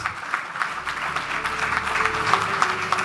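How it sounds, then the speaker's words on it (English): An audience at an awards citation ceremony applauds the winners with steady, dense clapping held at a moderate level the whole way through. "I request a huge round of applause for all the winners"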